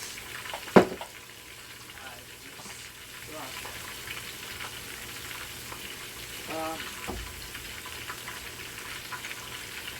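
Chicken and broccoli stir-fry with low sodium soy sauce sizzles steadily in a hot pan, with scraping stirs and a sharp clink near the start.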